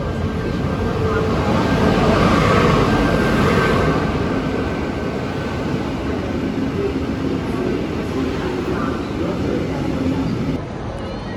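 Train ride to Liege in Belgium, heard from inside the carriage as a steady, loud broadband rumble of wheels and motion that holds constant throughout, with a faint high whine running along the top.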